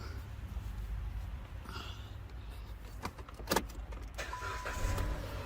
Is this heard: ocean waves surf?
no